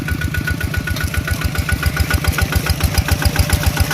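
A farm tractor engine runs close by in a flooded rice field, chugging in a steady, rapid knocking rhythm with a continuous low rumble that holds level throughout.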